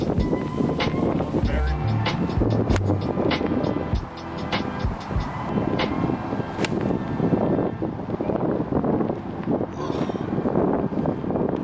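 Wind blows outdoors at a landscaping site, a constant rough rumble buffeting the microphone throughout while people talk over it.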